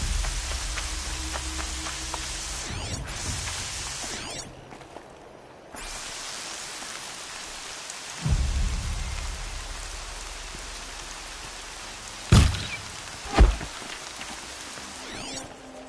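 Steady rain falls outdoors with a constant close patter on surfaces, briefly thinning for a moment before resuming, and a couple of sharper knocks stand out near the end with no voices.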